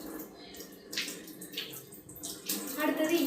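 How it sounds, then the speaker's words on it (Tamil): Milk bubbling at a steady boil in a pot while ginger tea is made, a close, uneven burbling with brief louder bursts of simmering. "பால் நல்லா கொதிச்சுக்கிட்டு இருக்குங்க தக தகன்னு."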